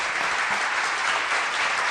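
An audience applauds to welcome a doctor, a dense, even patter of many hands clapping at a steady level for the whole two seconds.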